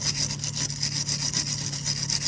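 A wire brush scrubbing clean a brake pipe on a Volvo V70, a steady rapid back-and-forth rasping scrape repeating evenly throughout, close and fairly loud with no talk.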